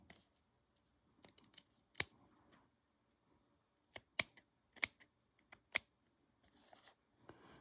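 Sharp scissors trim a piece of lace for a handmade tassel, giving a few quiet, crisp snips in small clusters separated by pauses, with no talking.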